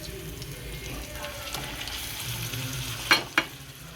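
Egg biryani masala is stirred in a pan, eggs turned into the spiced mixture with a soft, steady sizzle, and two sharper scraping clinks of the spoon sound near the end.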